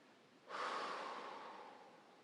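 A single heavy breath out, then in, as part of a calming exercise: a sudden breathy rush starts halfway through and slowly fades, close and alone with no talk.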